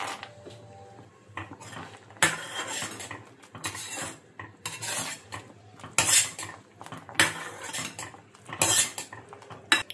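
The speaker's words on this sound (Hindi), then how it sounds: "वेलची पावडर घालू, चांगलं मिक्स करूया।" Spoon clattering and scraping in a pan as makhana with dry fruits is stirred together with cardamom powder, a series of sharp metallic clinks and rasps in irregular bursts, close and fairly loud with no talk.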